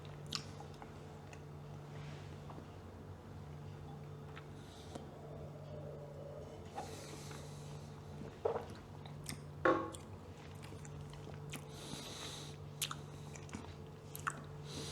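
Quiet chewing and biting on a piece of chocolate taken with wine, soft crunchy mouth sounds scattered over a steady low hum, close and faint, no speech.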